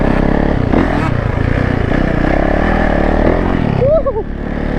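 A Yamaha YZ125 two-stroke supermoto ridden off-road gives a loud, steady engine drone throughout, with a short vocal exclamation rising over it near the end.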